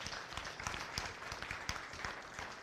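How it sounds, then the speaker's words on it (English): Audience applauding at a county fair beef show, a quiet, steady patter of scattered clapping from a small crowd, fairly distant. "Let's give them a nice round of applause."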